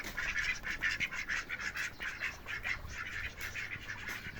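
Ducks quack repeatedly in quick, overlapping bursts, a busy chorus of calls at moderate volume with no talking.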